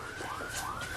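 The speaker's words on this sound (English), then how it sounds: "Set the house alarm off." A steady electronic house alarm tone wails faintly, sliding slightly in pitch over a background hiss.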